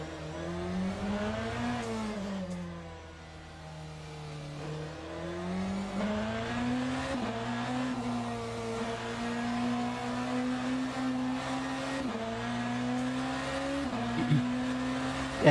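A BMW hypercar races around Interlagos in the video game Le Mans Ultimate, its engine droning steadily and rising and falling in pitch through shifts and corners, loud and continuous with no talking.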